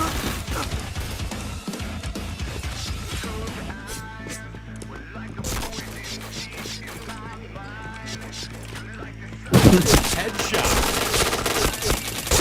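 Bursts of gunfire from a first-person shooter game, with mechanical clicks and creaks between shots, a quieter stretch in the middle and a louder volley of rapid fire near the end.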